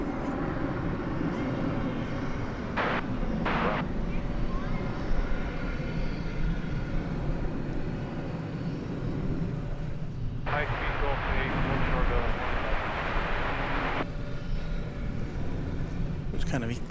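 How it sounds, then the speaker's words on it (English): A departing airliner bound for Orlando roars at DFW Airport during evening plane spotting, a broad, steady jet rumble heard from a distance with intermittent bursts of noise over it. "Now I hear the roar of that Orlando-bound plane."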